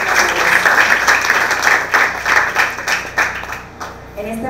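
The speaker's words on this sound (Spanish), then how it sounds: "Yo creo que estos premios se merecen otro fuerte aplauso" Applause and clapping from an audience honoring award winners at a regional final event in Guna Yala, a dense, steady patter of many hands that swells and fades.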